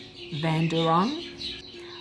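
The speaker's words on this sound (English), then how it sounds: "the birds are going crazy outside my house" Birds chirping outside a house, a clear, fairly close call with rising and falling whistled notes, standing alone over quiet background.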